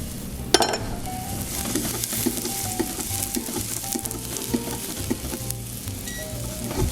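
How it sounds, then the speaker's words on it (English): Garlic sautés in hot olive oil in a pan for a cioppino fisherman's stew, giving a steady close sizzle with light stirring scrapes and the odd utensil clink. "So we can kind of let that saute."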